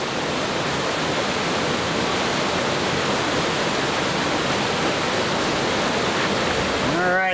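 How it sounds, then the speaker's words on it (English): Spring water gushing out of the base of a red cliff at Old Deer Creek, a Grand Canyon oasis, making a steady, loud broadband rush like a waterfall that continues unbroken throughout. "Springs everywhere, and they come out of the base of that red cliff over there."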